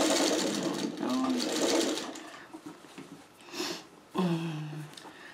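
A sewing machine stitches a quilt seam on a Churn Dash block with inset circles, running in short close bursts that stop and start, with a person talking between runs.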